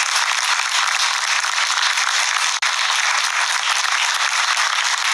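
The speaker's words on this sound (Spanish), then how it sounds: "Manuel Paredes y su esposa Raquel Garrido, para quienes pido un cariñoso aplauso." A television studio audience gives a warm round of applause to arriving guests, a loud, dense wall of clapping that runs continuously at close range, with one very brief dip midway.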